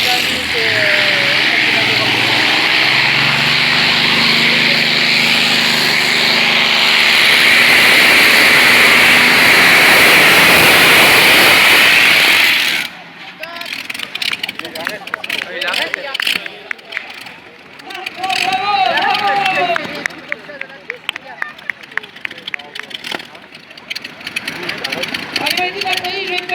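Loud, roaring pulling-tractor engine at a French tractor-pulling contest, driven by a grandfather, straining steadily for about thirteen seconds before cutting off, followed by crowd hubbub, cheering and talk.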